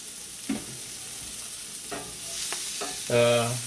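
Frozen Trader Joe's peppers and freshly chopped onion fry in butter in a Lodge cast iron skillet, a broad constant sizzle close by with a few soft stirring scrapes, the hiss swelling near the end; no voices.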